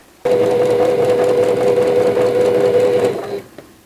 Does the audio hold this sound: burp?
no